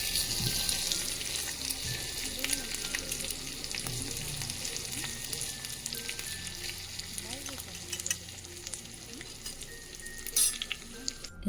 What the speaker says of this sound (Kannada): ನಾನು ಕೋಸಂಬರಿಗೆ ಒಗ್ಗರಣೆ ಹಾಕೋದಾದರೆ ಹೀಗೇ ಹಾಕೋದು.